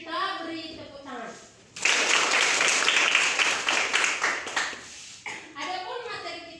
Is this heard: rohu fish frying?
no